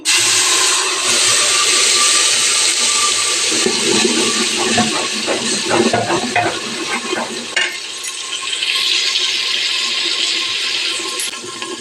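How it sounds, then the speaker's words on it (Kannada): Ground onion, garlic and green chili masala dropped into hot oil for a jilebi fish curry, giving a loud, steady sizzle with wet stirring scrapes throughout and no talking. "ಎಣ್ಣೆ ಕಾದಿದೆ ಇವಾಗ ಈರುಳ್ಳಿ ಬೆಳ್ಳುಳ್ಳಿ ಮತ್ತೆ ಒಂದೆರಡು ಮೆಣಸಿನ್ಕಾಯಿ ರುಬ್ಬಿರೋದು ಮಸಾಲೆ ಹಾಕ್ತಾ ಇದ್ದೀನಿ"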